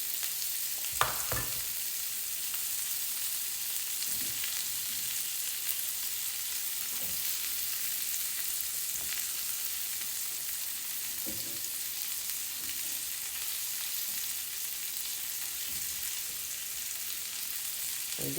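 Onion and bacon sizzling in a frying pan, a steady close crackle and hiss that runs unbroken, with occasional soft knocks and scrapes of stirring.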